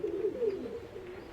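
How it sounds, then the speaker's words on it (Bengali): Fancy pigeons in a Mirpur, Dhaka loft give soft, low, continuous cooing, gently pulsing and fairly close, with no talk over it. "এই যে দেখতেই পাচ্ছেন মাশাআল্লাহ অনেক সুন্দর সুন্দর কবুতর, আর অসংখ্য কবুতর আছে ভাইয়ার কাছে"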